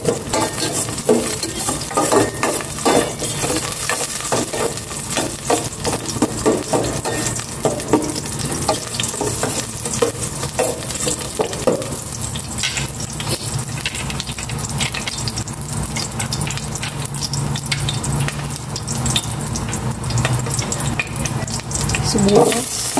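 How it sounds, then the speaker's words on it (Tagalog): Garlic frying in hot cooking oil in a pan, a loud continuous sizzle with crackling and stirring scrapes throughout, close up, with no talk. "Paglagay na ako ng cooking oil. Isa ko na pong bawang."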